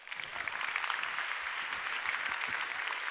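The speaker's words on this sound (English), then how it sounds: "Please give yourselves a round of applause." A conference summit audience applauds in a steady, dense wash of clapping that fills the room for about three seconds without a break and without any voices over it.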